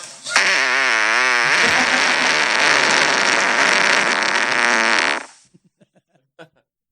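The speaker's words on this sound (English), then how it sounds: "And that'll be the last fart I'll play." A long recorded fart played back loudly for about five seconds, with a wavering, bleating tone at the start and a raspy sustained buzz, then a few short faint pops trailing off.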